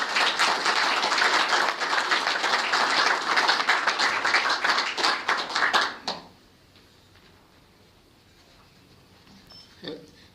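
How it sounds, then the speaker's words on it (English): An audience at a Rotary Club of Wellington meeting applauds its speakers with loud, dense clapping for about six seconds, which then stops abruptly, leaving a quiet room and a faint noise near the end. "So can we give a round of applause to our speakers"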